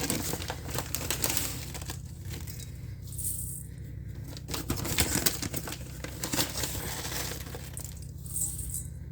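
Crinkling and rustling of a big bulk bag of shredded coconut, measured out by the cupful for Christmas cookies, with close, irregular crackles and clumps shifting over a steady low background hum.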